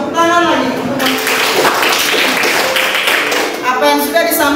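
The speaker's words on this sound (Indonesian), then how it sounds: "Bagus, tepuk tangan lagi." Applause from a classroom of students, a burst of hand clapping in the middle between stretches of voices, fairly close and loud.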